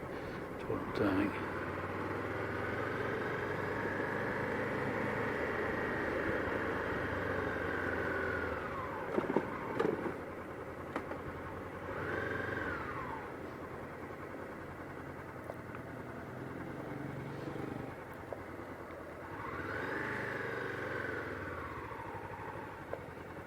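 A Honda CB500X motorcycle engine hums steadily while riding, with wind rush and a few rising revs and gear changes, as a rider talks over it.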